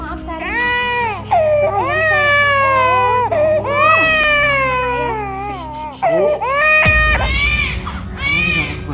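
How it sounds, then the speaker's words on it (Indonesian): A baby cries loudly and continuously in close wailing bursts, with adult voices speaking at moments over the crying. "Kamu juga anak bayi, wajar lo kalau nangis kayak gini."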